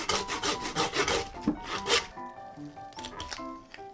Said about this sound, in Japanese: ここら辺の骨の部分をノコギリで切っていきます。